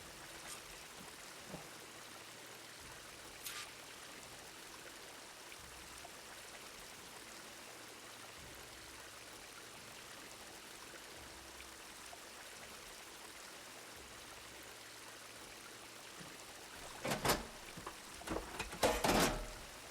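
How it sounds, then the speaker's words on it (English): Water trickles steadily from a sabotaged, leaking pipe in Horizon Forbidden West, a faint continuous stream with a few louder splashing bursts near the end. "The water's still leaking."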